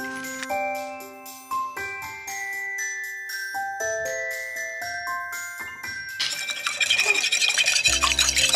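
Eggs for creme brulee French toast are beaten in a bowl, a quick rhythmic whisking clatter that comes in near the end after a stretch of light melodic music.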